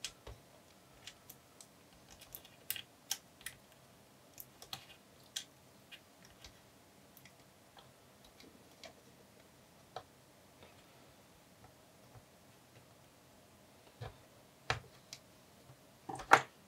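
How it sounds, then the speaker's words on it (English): Small plastic aerial leads clip back onto a WiFi card inside a Dell Inspiron 17-3793 laptop, giving faint, sparse clicks and light taps close up in a quiet room, with a sharper snap near the end. "So we want to clip back on the two aerial leads."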